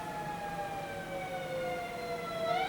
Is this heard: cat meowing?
no